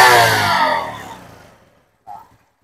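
A motorcycle engine revs hard during an oil pump check, then its roar winds down and fades over about a second and a half before a brief faint knock.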